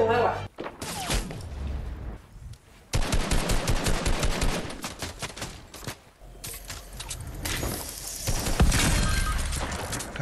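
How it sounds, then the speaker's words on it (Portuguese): Rapid bursts of gunfire in a Fortnite match, sharp clustered shots in several dense volleys with brief pauses between, loud and close, with an excited player talking over parts of it. "Caceta, que tiro foi esse?"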